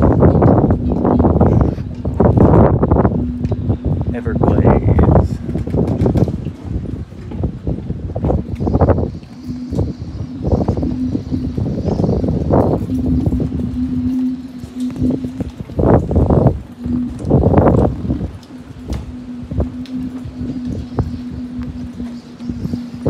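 Wind buffets the microphone in gusty, roaring bursts on the docks of Kona Kai marina in San Diego, with a faint steady hum running underneath.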